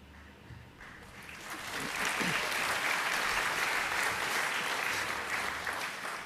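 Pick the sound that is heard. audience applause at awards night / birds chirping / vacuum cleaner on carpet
audience applause at awards night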